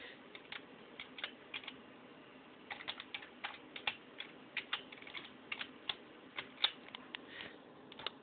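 Typing on a computer keyboard in Microsoft Word, with a close, quiet stream of irregular key clicks in short bursts and brief pauses, no talking.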